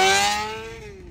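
A Honda CBR600RR sport motorcycle engine with a Yoshimura exhaust revs high and then winds down, the pitch sliding lower as the sound fades over about a second.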